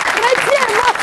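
A comedy-show audience claps in a brief, loud burst, with a voice calling out over the applause.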